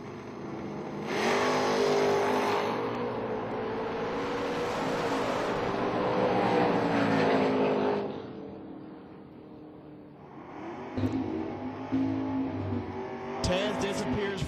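A Mustang drag racing car roaring hard as it accelerates down the strip at a Kentucky bottom bulb eliminations event, a loud sustained engine wail that fades, then a second burst, with a commentator talking over it.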